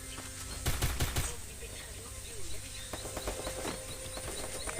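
Rapid bursts of gunfire in a video game, fairly faint, with a quick cluster of shots early on and scattered lighter pops later over a steady background hum.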